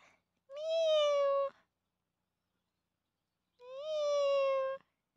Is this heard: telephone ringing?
no